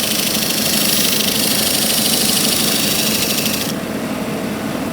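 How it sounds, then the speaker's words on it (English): A belt sander runs on wood with a steady whir and a high abrasive hiss that drops away near the end while the motor keeps humming. "light even pressure back and forth across the belt, sanding it down to my desired line."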